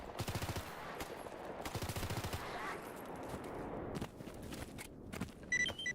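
Rapid automatic gunfire from a repaired gun in a video game crackles in short bursts, with quieter gaps and scattered single shots between.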